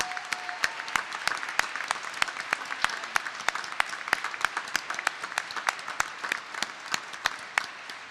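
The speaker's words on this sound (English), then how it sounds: "So please give your mayoral candidates a big round of applause" A debate audience gives sustained applause for mayoral candidates at the close of a 2014 Peterborough mayoral business debate, dense even clapping with sharp individual claps standing out for the whole stretch.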